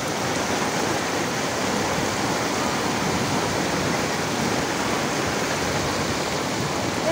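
Floodwater rushing steadily during Typhoon Kristine near rice fields, a dense, continuous roar of moving water at moderate level with no breaks.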